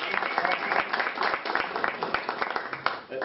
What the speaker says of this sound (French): Si, on peut applaudir.